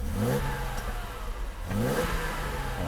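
A Mercedes W126 300SEL engine, freshly repaired at the fuel distributor, is blipped twice from a steady idle. Each rev climbs smoothly and falls back, close and clear with no voices.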